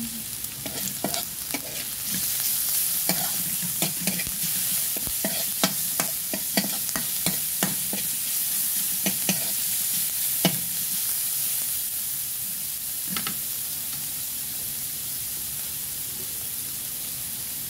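Garlic sizzles in a pan for arroz caldo, a steady hiss broken by repeated sharp scrapes and taps of a stirring spoon, moderately close.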